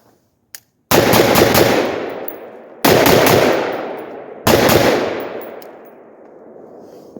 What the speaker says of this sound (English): I'm going to shoot brass now, which is a little bit hotter.